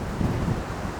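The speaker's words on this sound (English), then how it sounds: "it's so windy." Wind buffets the microphone in a woodland, a steady low rumble, loud and unbroken for the whole moment.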